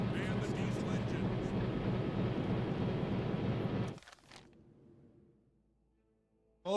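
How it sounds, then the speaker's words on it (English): Steady low rumble of ship diesel engines in a naval combat game, loud and continuous for about four seconds before cutting off to near silence, with faint voices in the background. "Man the diesel engines."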